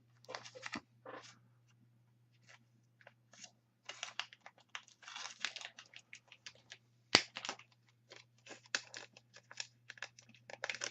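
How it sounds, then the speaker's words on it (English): Tape peeled from packaging in short bursts of crackly tearing and sticky rustling, irregular and fairly close, set against a low steady hum with no talking. "I'm going to remove this tape completely"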